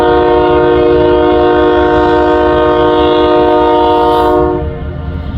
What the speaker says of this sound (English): We got an eastbound loaded coal drag.